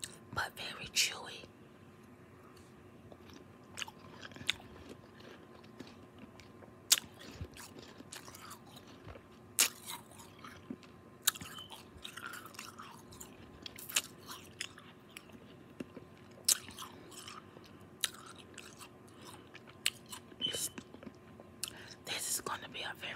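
Soft, chewy slushy ice is bitten and chewed close to the mic in an ASMR setting, giving irregular crisp clicks and light crunches over a low hiss, with whispering throughout.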